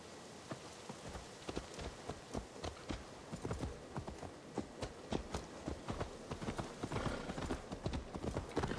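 Horse hooves clip-clop steadily in the Assassin's Creed Valhalla video game as a horse is ridden, a quick, even trot of hoofbeats over a soft rainy background, with no talk.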